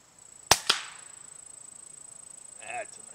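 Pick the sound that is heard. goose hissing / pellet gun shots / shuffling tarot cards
pellet gun shots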